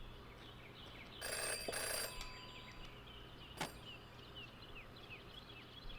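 A telephone rings in the video game Jenny LeClue, one short burst of electronic ringing followed by a brief sharp click, set against a faint chirping insect-like ambience.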